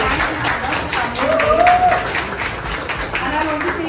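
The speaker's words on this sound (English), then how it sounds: "can you please clap for each other?" Colleagues at a team offsite and meet-up in Delhi clap for one another, a lively round of applause close by with voices and a brief exclamation rising over the clapping.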